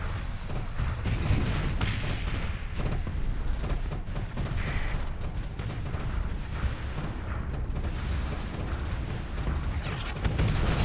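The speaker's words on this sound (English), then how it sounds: "So many missiles and fighters." Missile launches and fighter jet gunfire from a video game roar in a dense, continuous barrage of booms and rumbling blasts, loud and sustained throughout.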